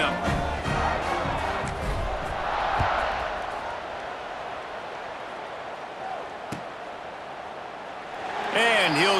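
A large stadium crowd at a Southern Miss vs Hawaii college football game sends up a loud, sustained roar before kickoff, steady throughout with a brief sharp knock midway.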